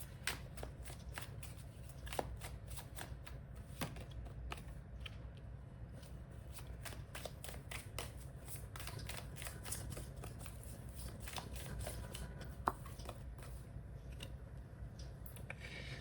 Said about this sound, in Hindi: Let's get some more cards.